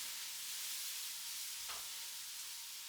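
Mushrooms and onions frying on high heat in a pan, starting to catch on the bottom, giving a steady close hiss with a brief stirring scrape midway and no talking.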